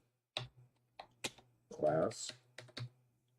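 Typing on a computer keyboard during a live stream, a few scattered key clicks alone and between short bursts of someone talking.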